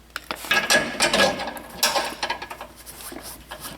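Ratchet clicking as a bolt is started into the rear shock mount of a Honda Pilot, a series of close, uneven bursts of mechanical clicks and rubbing with no talking.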